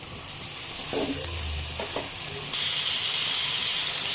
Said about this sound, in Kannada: ಈಗ ಮಶ್ರೂಮನ್ನು ಹಾಕ್ಕೊಳ್ಳಿ.